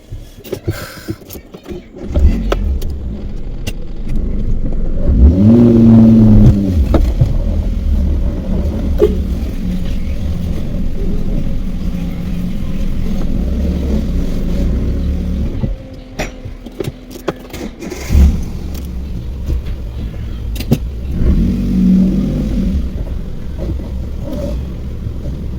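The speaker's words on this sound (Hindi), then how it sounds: "और गाड़ी भी चल गई।" A car engine rises as the vehicle pulls away and accelerates, loud and close from inside, settling into a steady driving drone, dipping briefly and then picking up again.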